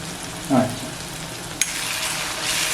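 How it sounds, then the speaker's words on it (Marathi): Turmeric, garam masala and other ground spices sautéing in a pan for prawn keema make a steady, close frying hiss, with a louder stirring swish early on and a single sharp spatula tap midway. "मसाले मस्त असे परतून घ्यायचे"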